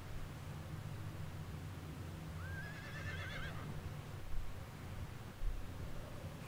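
A horse whinnies once in Red Dead Redemption 2, a rising then wavering neigh at moderate distance, set over steady outdoor background noise with faint rustling afterward.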